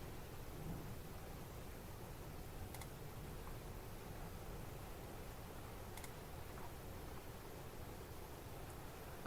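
A steady low thunder rumble and the constant hiss of rain keep going for several seconds during a storm outside a weather station, faint and unbroken, with a couple of brief clicks.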